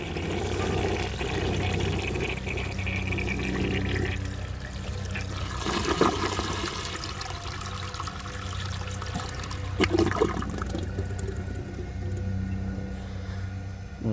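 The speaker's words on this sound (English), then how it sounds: "How many flushes do you think it'll take?" A 1930 Eljer Sanus toilet flushes five pounds of dirt, with a loud, close rush of swirling water that holds steady before draining down and trickling off, with gurgles near the end.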